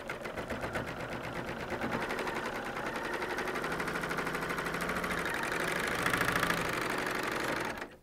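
Coverstitch serger machine stitching a fabric bag, a loud continuous rapid mechanical chatter running close and unbroken for about eight seconds before cutting off.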